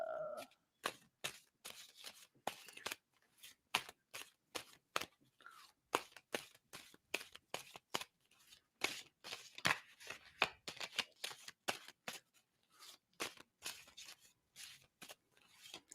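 Tarot cards being shuffled by hand, a quiet run of rapid dry papery clicks and riffles that goes on steadily for the whole stretch with short gaps, close and soft, with no voices.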